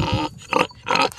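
A pig grunts and squeals in three quick, loud bursts close by.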